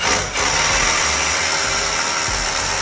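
A concrete drill with a concrete bit bores steadily into a commercial building's concrete for a Tesla wall connector mount, a loud, continuous grinding roar with a brief dip near the start.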